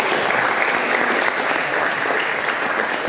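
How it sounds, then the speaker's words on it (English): A crowd gives a warm round of applause welcoming speaker Lauren Tickner, a loud, dense and continuous clapping that holds steady throughout. "So please give a warm round of applause."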